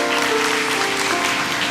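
Church congregation applauding during a sermon, a dense wash of clapping with faint sustained tones underneath, steady and fairly loud across the short span.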